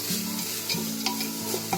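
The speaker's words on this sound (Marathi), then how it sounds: "आता थोडं थोडं टाकत सगळं आहे ना, सगळं हलवून घ्यायचं, असं म्हणजे ढवळून घ्यायचं आहे" Masoor pulao ingredients stirred in ghee in a pressure cooker pot, a soft continuous sizzle with occasional scraping clicks of the spoon, while a faint tonal hum sits low beneath it.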